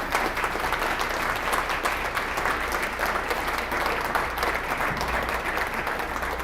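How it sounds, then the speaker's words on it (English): Steady, dense applause from an audience honoring city staff at a State of the City event, sustained and even at full volume throughout with no voices over it. "please stand and be recognized with a round of applause"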